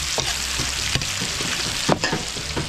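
Garlic and onion sautéing in oil at a large outdoor catering cook in Tarlac City, a dense loud sizzle broken by brief stirring knocks.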